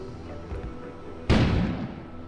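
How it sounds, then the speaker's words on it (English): A sudden explosion goes off outside in the video game Kona, a single loud boom cutting through quiet ambient game noise and rumbling away over about a second. "An explosion suddenly occurred outside."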